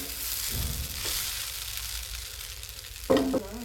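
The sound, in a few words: sautéing cluster bean dal usili with curry leaves and coconut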